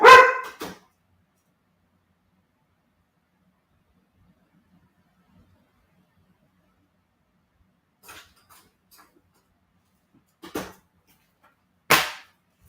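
Dogs bark at a postman in a home, a loud burst of barking at the start, then a few short, fainter barks and yelps spaced out later, with quiet stretches in between.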